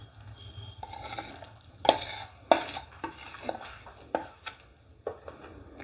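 Ghee and jaggery mixed into churma ladoo mixture in a bowl, heard as soft stirring and scraping with occasional sharper clinks of a utensil against the vessel, close and fairly quiet, without speech.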